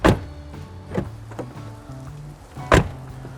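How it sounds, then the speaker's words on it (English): A Land Rover Discovery door is handled close up: a sharp latch clack, a couple of lighter clicks and mechanical movement, then a solid thump as the door shuts near the end. "the sound they make when you open and close the doors"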